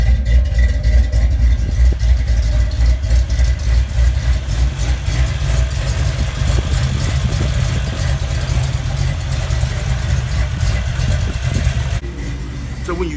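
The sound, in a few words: Ford Foxbody engine idling after new spark plugs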